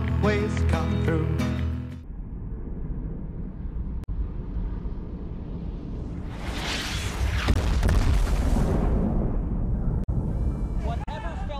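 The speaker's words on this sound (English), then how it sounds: "It sounded like several sonic booms." Sonic booms from something falling from the sky, a film sound effect from Transformers (2007): music gives way to a loud, broad roaring rumble that swells and fades, with sharp cracks near the end.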